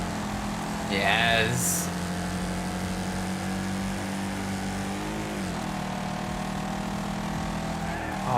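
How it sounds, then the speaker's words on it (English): Car engines roar and rev during a race in the video game Wreckfest, with a sharp pitch-sweeping rev burst early on and a steady engine drone beneath a speaking voice. "Oh, I love the sound of the engines in this game though."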